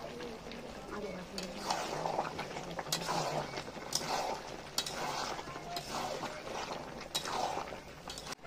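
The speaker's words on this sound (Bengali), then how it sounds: "দেখো মাংসটা কিন্তু এখন খুব ভালো করে কষানো হচ্ছে।" Mutton is browned with fried potatoes and chui jhal in a pot on a clay stove, giving a low, bubbling simmer with repeated scraping stirs, fairly quiet, under soft talking.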